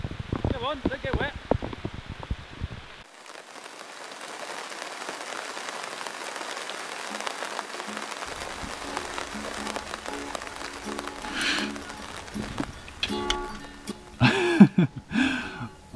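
Steady rain falls outdoors in a garden, a constant soft hiss with occasional closer drips and patters, louder toward the end, while someone talks at the start.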